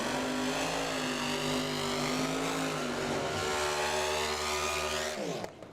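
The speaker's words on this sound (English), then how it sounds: "Problems for Kevin Carter, you could hear it when he hit the gas." An injected small-block nostalgia dragster engine running sour at a drag strip, with a loud, sustained rough roar that wavers in pitch and then cuts off abruptly near the end.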